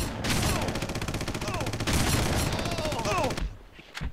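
Shotgun blasts and other weapon fire in the PC shooter Red Faction, loud continuous bursts for about three seconds before cutting off, with someone talking over the shooting.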